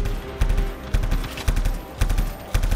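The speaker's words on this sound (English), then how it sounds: "I'm just shooting at his shields" Rapid gunfire from the Anthem video game, shooting at a shielded enemy: loud bursts of quick repeated shots in regular rhythmic clusters, close and dominant, with no talking.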